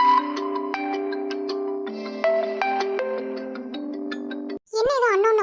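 A mobile phone plays a melodic ringtone, a loud, clear repeating tune of chiming notes that rings for several seconds and then cuts off, followed by a voice speaking.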